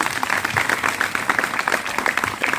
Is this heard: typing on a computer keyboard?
no